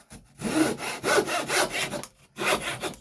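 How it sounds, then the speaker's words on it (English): A handsaw cuts through wood held on a bench hook in a rhythmic series of close, raspy strokes, about five pushes in quick succession with short pauses between them. "to get our handsaw, using our bench hook, we're just going to"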